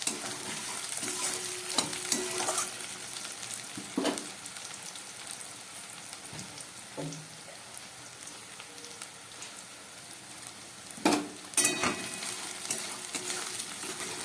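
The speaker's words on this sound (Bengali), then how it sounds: "আলু পেঁয়াজটা ভাজা হয়ে গেছে," Potato and onion frying in a pan over a medium flame, a soft continuous sizzle broken by scattered stirring clatters and a few louder scrapes near the end, nobody speaking.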